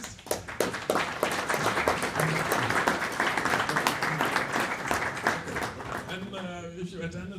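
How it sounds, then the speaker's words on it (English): Audience applause for panelists at a cybersecurity conference session, a loud, dense burst of many hands clapping that carries steadily for most of the stretch, then thins out as a voice begins speaking near the end. "So, big applause to all the panelists."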